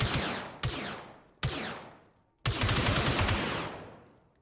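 Weapon blasts in the Star Wars XCOM 2 mod video game: several loud, close shots, each a sharp burst that rings out and fades, then a longer sustained blast that trails off.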